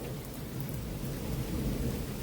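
Steady, dense rain from an electrical thunderstorm in Georgia, with a continuous low rumble of thunder underneath, loud and unbroken throughout.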